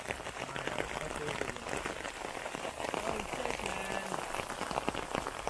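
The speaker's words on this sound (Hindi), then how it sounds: "बारिश शुरू हो गया है।" Steady rain patters on a surface in Meghalaya, India, a dense, even hiss of drops with no pauses throughout.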